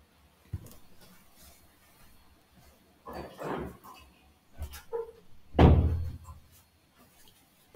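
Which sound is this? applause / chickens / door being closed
door being closed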